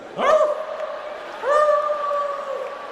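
Stand-up comedian imitating dogs with a sharp yip followed by drawn-out howls, voice wavering in pitch, with faint audience noise in the background of a live comedy show.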